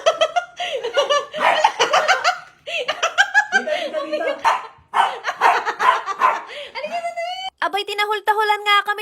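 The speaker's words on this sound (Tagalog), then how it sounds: "tinahol-taholan nga kami dahil hindi niya nga makita yung daan" A pet dog barks repeatedly while stuck in a cardboard box maze, sharp close barks in quick bursts mixed with people laughing and chattering.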